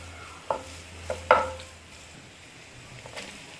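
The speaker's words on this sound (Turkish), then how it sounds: "yeşil biber ve kırmızı biberlerimizi ilave edip yumuşayıncaya kadar bir güzel kavurmaya devam ediyoruz" Minced meat with tomato paste and green and red peppers being sautéed in a pan for yoğurtlu kebap, with a low sizzle and a few sharp scrapes and clacks of a spoon stirring against the pan, close by.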